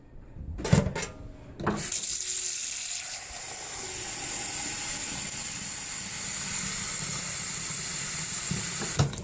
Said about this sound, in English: I'm going to do tap water